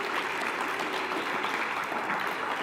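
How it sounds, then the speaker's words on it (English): A crowd gathered for a recovery and remembrance event in Raton, New Mexico applauds steadily, a soft, even patter of many hands at a moderate distance, with no voices over it. "So can we give them a round of applause,"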